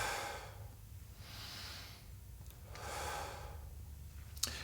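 A person exercising in a beginner full-body workout breathes out in two long, soft, airy exhales, close and unhurried, with no talking, and a brief click near the end.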